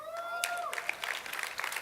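Church congregation applauding, a steady patter of many hands clapping at moderate distance for a couple of seconds, with a faint voice and a brief tonal sweep at the start.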